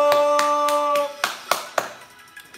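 A few people clap for Mr. Héctor in a home cocktail-making setting, starting over a sustained tone and then trailing into several separate loud hand claps, spaced and uneven, near the microphone.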